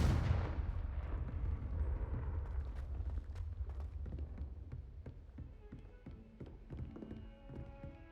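Confringo exploding spell cast in Hogwarts Legacy, starting with a loud burst that rumbles and fades into scattered thuds and clattering debris over several seconds.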